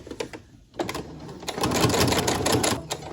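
A sewing machine stitches a fabric bookmark at about an eighth-inch seam allowance, a close, rapid mechanical chatter that starts in short bursts, pauses briefly, then runs in a loud continuous stretch.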